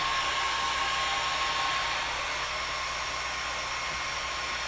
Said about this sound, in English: I thought the blow dryer was a really good tip rather than using a heat tool